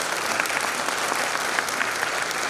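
A university Republic Day celebration audience claps steadily, a dense, even wash of applause from many hands that stays loud throughout.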